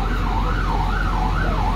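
Ambulance sirens wail loudly and continuously in a repeating rise and fall as they arrive at a building fire in a historic town centre across from a park.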